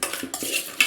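A spoon stirs lemon juice into a cup of yogurt in a bowl as a marinade for fried chicken biriyani, giving a few short, close scraping and clinking strokes against the dish.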